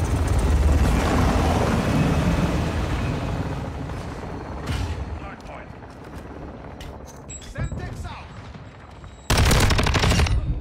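An AUG rifle fires in a video game, dense bursts of rapid automatic gunfire amid loud battle noise, thinning out into scattered shots before another loud burst at the end.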